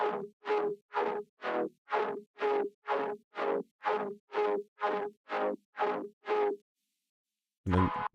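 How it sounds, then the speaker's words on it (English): A Spire software synthesizer run through effects and automation plays about fourteen evenly spaced, punchy plucked notes in a steady rhythm, then falls silent briefly before a final distorted hit. "and then with the effects and the automation it sounds like this."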